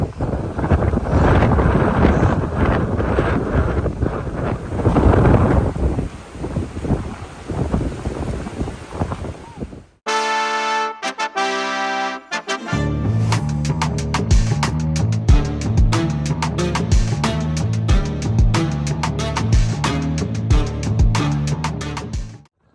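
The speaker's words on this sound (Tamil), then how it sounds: "என்னோட இப்படி காத்தடிக்குது" Strong wind buffets a microphone on a sandy beach at Hel, Poland, roaring loudly for several seconds before it gives way abruptly to unrelated music that fills the rest.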